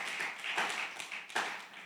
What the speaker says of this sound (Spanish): nos damos un aplauso a nuestro Señor Jesús